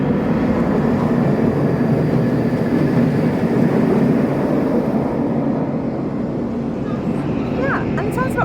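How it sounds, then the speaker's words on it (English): Galacticus roller coaster train at Alton Towers sweeping past, a loud sustained rumbling roar that fills the scene and slowly eases off, with faint voices in the background. "Galacticus train's about to come around and interrupt me"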